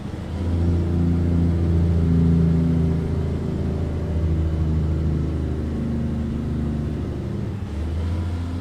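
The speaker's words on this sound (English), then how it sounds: "Let's use some engine braking here so we can slow down." A heavy International Lonestar truck with an X15 engine engine-braking in American Truck Simulator, a deep steady rumbling drone with a low, sustained tone, close and loud with no talk over it.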